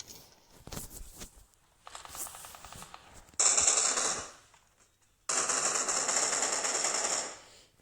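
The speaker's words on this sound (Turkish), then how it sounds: "Aynı silahla beni 5-4 mermiyle indirdi." Gunfire in a video game, heard as bursts of rapid automatic shots, first light and scattered, then two long, loud, sustained volleys close to the microphone.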